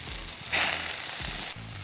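Onion hits hot coconut oil in a heated pan with a sudden loud sizzle that settles into steady close frying crackle, a brief clatter near the end.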